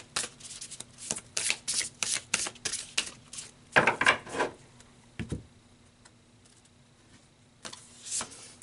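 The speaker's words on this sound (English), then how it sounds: "So let's pull another card." Tarot cards being handled and one card drawn from the deck in a reading: a close series of quick, crisp shuffling flicks and taps, then a louder rustle and a few soft clicks before the sound fades out.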